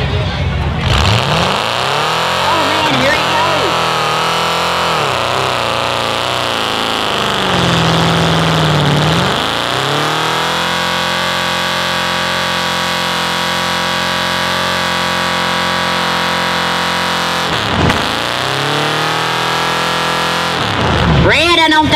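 A Ford truck on pink wheels roars through a mud bog at a county fair, its engine revving hard and loud up and down with sustained straining drones, while voices talk and call out over it.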